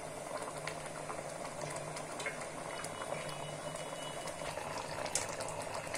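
Lentil dal with winter vegetables bubbling and thickening in a pot, a steady low simmer of soft pops and burbles running evenly throughout with no voices.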